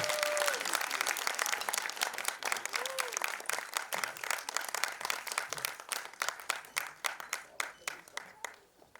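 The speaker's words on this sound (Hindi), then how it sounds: "Keep clapping till they get up on stage." Sustained audience clapping at a music premiere event, dense at first and thinning into sharper, more separate claps toward the end, with faint voices in the crowd.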